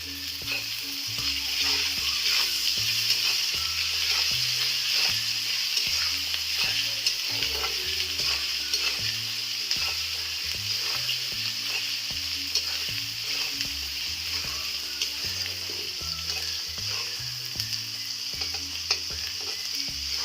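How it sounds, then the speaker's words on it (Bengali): Ginger being fried and stirred in a pan for tarka dal, a steady loud sizzle with a rhythmic scrape of the spoon against the pan throughout. "এবারে আমি আদাটা দিয়ে দিচ্ছি। আদাগুলো পুড়ে নেওয়া হয়েছে।"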